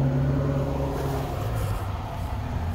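A 2012 Jeep Wrangler engine running at a steady idle, the vehicle carrying a cylinder 6 misfire code; a loud, continuous low hum with a slight rough pulse and no voices.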